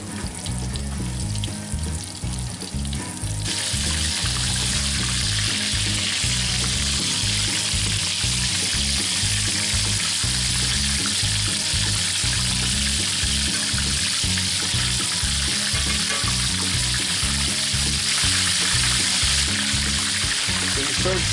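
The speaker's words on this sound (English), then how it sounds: "And we want this oil to cook them pretty quickly on the outside, but not dry them out." Chicken fried steak frying in hot oil in a cast iron skillet, a loud, steady crackling sizzle that fills the whole stretch with little pause.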